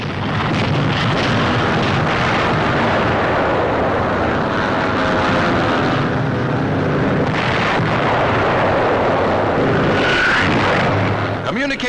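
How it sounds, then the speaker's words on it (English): Allied bombing in Normandy in 1944 comes through as old newsreel sound: loud, continuous rumbling blasts and aircraft roar, with someone narrating over it. "Communications necessary to the German defenses are blasted."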